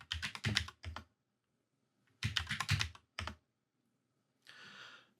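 A password is typed on a computer keyboard in quick bursts of close, crisp key clicks separated by pauses, ending with a softer run of presses.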